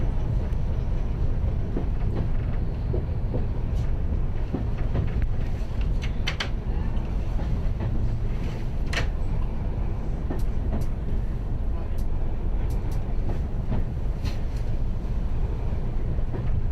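A diesel multiple unit train runs steadily on the Strathspey Railway, its low engine and rolling rumble continuous and close, with wheel and track clicks scattered through and a wind-like hiss.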